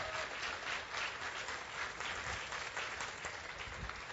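A church congregation bursts into sustained applause during a Spanish-language sermon, a dense, steady wash of many hands clapping at once that holds for several seconds with no voice over it.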